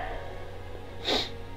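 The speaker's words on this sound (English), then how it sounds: "I'm sneezing. It's the flowers and the trees that get to me." A single quick sneeze stands out over a low steady room hum in a quiet indoor space.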